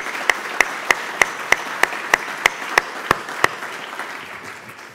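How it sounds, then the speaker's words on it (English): Applause for award honorees at a 2017 Healthcare & Life Sciences awards dinner, a hall full of people clapping steadily, with sharp regular claps standing out near the front before the clapping fades toward the end. "give a big round of applause to all the honorees tonight on my behalf as well"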